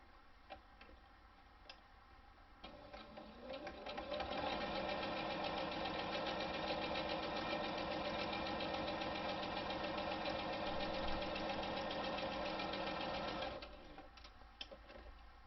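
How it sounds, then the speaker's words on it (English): Sewing machine top stitching along the joined edge of a fabric face mask holder, a steady rapid mechanical ticking that starts softly, swells to a loud continuous run for about ten seconds, then stops. "Then top stitch along the edge where they have been joined together."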